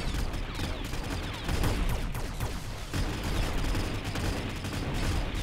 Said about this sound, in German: Also gefühlt kommen so 2 bis 3 Schüsse immer durch vom Overlord.